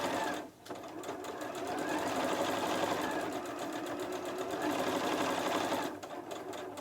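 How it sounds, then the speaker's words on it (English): A sewing machine runs a steady locking stitch along the full length of a fabric seam on a star place mat. The motor hums continuously and close, with a brief pause near the start and a dip in level near the end. "I'm going to sew along the full length of that seam one more time."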